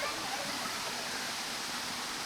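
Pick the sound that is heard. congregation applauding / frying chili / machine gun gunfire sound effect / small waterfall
small waterfall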